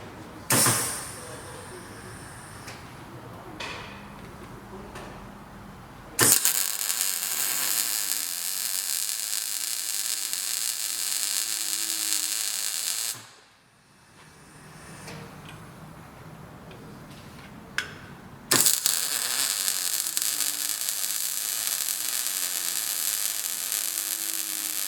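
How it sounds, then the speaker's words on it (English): Welding brackets onto an electric carp barrow conversion: two long, steady crackling, sizzling bursts of several seconds each, close and fairly loud, separated by a quieter pause with a low hum. "so we're going to weld them up now"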